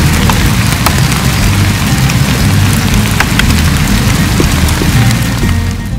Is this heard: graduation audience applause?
no